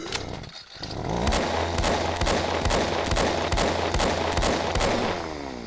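A chainsaw enemy in the indie horror game The Darkest Words roars loudly with a harsh engine drone and regular pulsing bursts that run continuously for several seconds.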